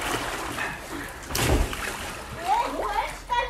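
A girl jumps into a swimming pool with a splash, and water sloshes and churns around her while someone talks and laughs over it.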